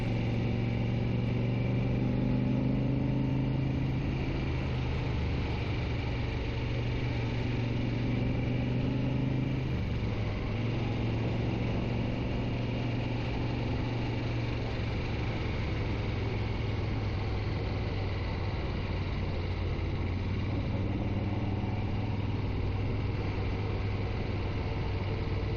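A 1972 Moto Guzzi Eldorado motorcycle engine runs in a steady, continuous low drone with a throbbing hum and slight shifts in pitch as it rides along, heard without talk.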